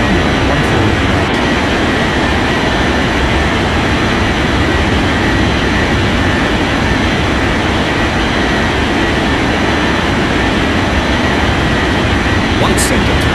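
A simulated airliner rolls down runway 14 right on takeoff at a game airport, its jet engines giving a steady, loud, broadband roar and rumble for the whole stretch while radio-style talk continues over it.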